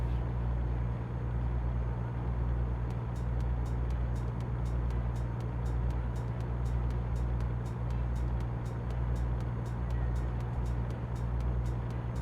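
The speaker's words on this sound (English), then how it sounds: "If 70 miles an hour feels pretty fast for this tiny little truck." A truck engine in American Truck Simulator drones steadily at about 70 mph with a low constant hum, a faint regular ticking running over it through the latter part.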